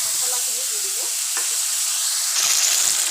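Fried spices sizzle in hot oil in a wok, with close, busy crackling broken by the scrape of stirring and a louder burst of sizzle near the end.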